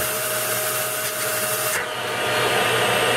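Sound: high-powered vacuum cleaner

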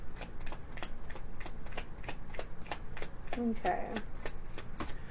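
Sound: tarot cards being shuffled

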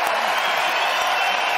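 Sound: crowd applause at a tennis match

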